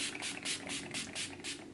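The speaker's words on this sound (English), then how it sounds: "now I'm gonna take my Urban Decay All Nighter setting spray" Urban Decay All Nighter setting spray misted close to the face in a quick series of about seven short, soft pumped bursts, evenly spaced and quiet, with no one speaking.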